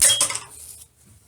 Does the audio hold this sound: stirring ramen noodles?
yes